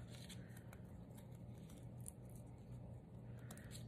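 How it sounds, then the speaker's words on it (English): Scissors snipping through stacked, folded paper while trimming out a butterfly shape, a steady run of soft close cuts over a constant background hum. "So just gonna finish cutting this shape out."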